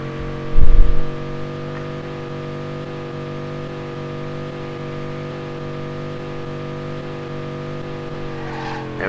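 Corvette engine during a drag race in Test Drive, a loud steady droning hum held at constant pitch, with a brief burst of louder noise near the start.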